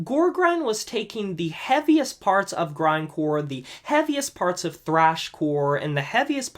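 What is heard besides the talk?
None of the usual background noises is heard.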